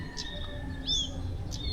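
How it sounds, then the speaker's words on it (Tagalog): Crows calling in trees near a cemetery in Oslob, Cebu: a few harsh, bright calls spaced apart, moderately distant over a quiet outdoor hum. "Yung mga uwak, ang daming uwak dito."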